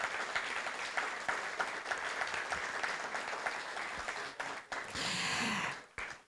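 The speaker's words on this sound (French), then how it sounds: "Je pense qu'on peut applaudir nos 3 orateurs." An audience at a colloquium applauds three speakers, steady sustained clapping from many hands filling the room for several seconds before tapering off.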